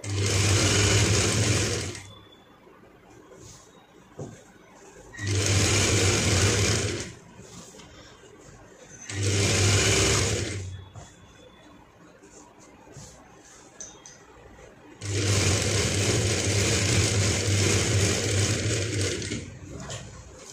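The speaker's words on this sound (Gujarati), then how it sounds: "આની ઉપર આપણે સિલાઈ કરવાની છે, જેથી આ સિલાઈ આપણી ઉપરથી બેસી જશે।" A sewing machine stitching fabric for a child's dhoti runs in four loud, close bursts of steady whirring, separated by quiet pauses of fainter handling sounds.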